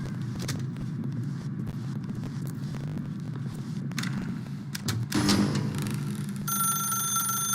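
A telephone rings in the video game The Stanley Parable, steady and fairly close, over a low ambient hum and rumble. A bright, even electronic ring tone starts near the end.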